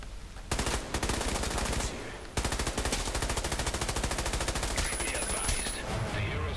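Rapid automatic gunfire in Batman: Arkham Origins multiplayer rattles in loud, dense, continuous bursts with one short break, close and dominant.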